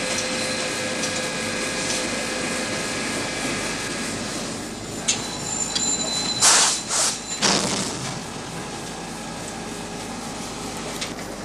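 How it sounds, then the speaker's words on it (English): Iron ore rail cars in a rotary car dumper at Dampier give off a steady industrial rumble and hum, with a few louder clanks and scrapes midway. "the iron ore cars are unhooked and shunted into the rotary car dumper"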